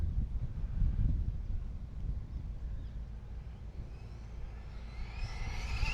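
A Traxxas Mini XRT RC truck running at full throttle across a parking lot, a low rumbling motor whine mixed with wind buffeting the microphone, rising and thinning toward the end as the truck pulls away.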